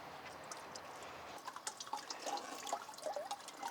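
Water trickles and drips out of a mesh sampling net as it is moved and scraped, starting as a soft wash and turning into an irregular patter of close, quiet drips and splashes.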